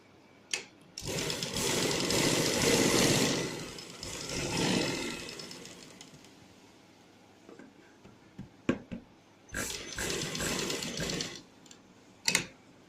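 A sewing machine stitches along a neckline beneath buckram, running in close, loud bursts of rapid whirring and ticking separated by pauses, with scattered clicks of handling between runs.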